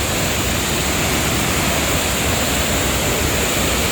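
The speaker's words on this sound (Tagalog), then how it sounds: "Ganda ng falls, oh." A waterfall at a camping site in Norway roars as a dense, constant broadband rush, loud and close without any break.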